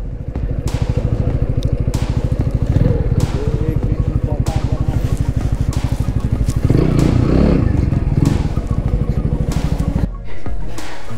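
A go-kart or motorbike engine idles and revs nearby with a rapid pulsing beat, rising in bursts and dropping near the end, while people talk over it.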